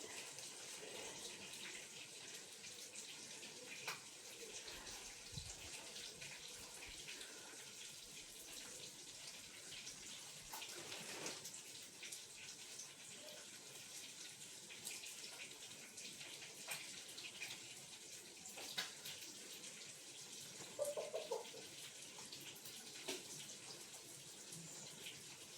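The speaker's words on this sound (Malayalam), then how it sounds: "രണ്ട് മൂന്ന് വട്ടമായി കഴുകണം, അല്ലെങ്കിൽ അതിൽ മട്ട് പോവില്ല" Bamboo shoot rinsed and drained under running water: a steady tap stream splashing into a vessel for the whole stretch, quiet and close, with occasional small knocks and no voices.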